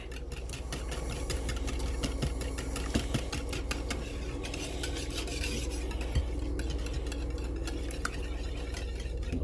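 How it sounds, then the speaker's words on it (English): A very loud coffee pot brews nearby in a kitchen, giving a steady, close rumbling hiss that runs through the whole stretch, with faint clinks of a whisk and utensils mixing ingredients on top. "The loudest coffee pot in the world in the background"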